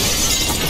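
Glass shattering inside the post-apocalyptic shooter game Metro Exodus, a short, bright, noisy crash that fills the moment at steady loudness with no voices.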